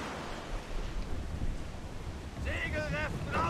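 Steady rushing wind noise with a low rumble, like stormy gusts over open sea in Assassin's Creed IV: Black Flag, fairly soft and continuous; a voice briefly sounds near the end.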